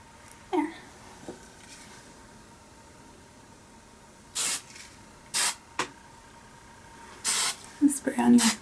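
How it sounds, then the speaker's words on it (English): Hairspray misted onto a pinup pin curl in several short, sharp hissing bursts, close to the ear, the last ones clustered quickly together over quiet room background. "And spray on your pin curl like that."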